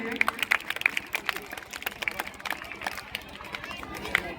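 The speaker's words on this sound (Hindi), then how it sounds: "एक बार जोरदार ताली हो जाए इनके लिए" Audience at a school's tenth anniversary celebration claps for a guest, a busy, uneven burst of applause with sharp individual claps close by and chatter mixed in.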